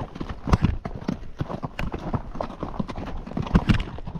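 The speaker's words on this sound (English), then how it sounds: "We got a little bit of a climb here. And the horses are gonna have to work a little bit." Horses' hooves clip-clop in an uneven, steady rhythm as the animals work up a trail climb at Loma Alta Trail Head, with close, sharp strikes and a couple of heavier thuds.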